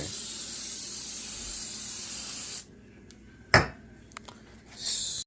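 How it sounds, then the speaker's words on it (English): A steady hiss of an aerosol cooking spray for a couple of seconds, then it cuts off, followed by a sharp clack and a brief second spray burst. "spray your cooking spray"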